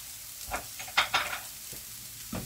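Ground spices, paprika, cumin and coriander, are stirred into vegetables frying in a pan for chilli con carne, giving a few close scraping stirs over a soft sizzle.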